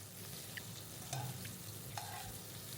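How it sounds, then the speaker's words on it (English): Chicken bones stir-fry in oil and butter in a pan, giving a quiet, steady sizzle with a couple of brief stirring scrapes and no talking. "I'm going to take like 250 grams of chicken bones and stir fry it for some time"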